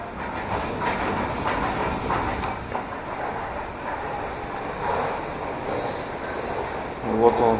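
A tram rumbles past in an underground station in Antwerp, steady rolling noise with hiss and faint wheel clatter, then a brief squeal near the end.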